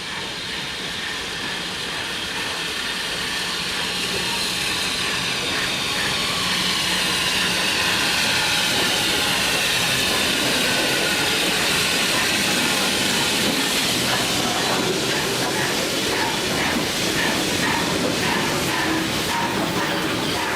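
A pair of steam locomotives haul an express passenger train arriving at Carnforth station, a loud sustained hiss of steam over rolling wheels and rhythmic clickety-clack that grows stronger as the train draws near.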